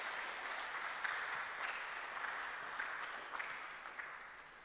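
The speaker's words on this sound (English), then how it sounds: "I think the Honourable Member of Parliament deserves a bigger round of applause." Audience in a church applauding a Member of Parliament at a Christians-as-citizens event, a steady, faint, somewhat distant wash of many hands clapping that runs unbroken for several seconds, with no talk over it.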